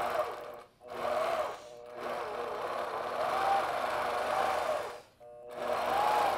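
A longarm quilting machine stitches a quilt along a ruler with a steady, close, buzzing whir, broken by a few brief pauses where the motor stops and starts again.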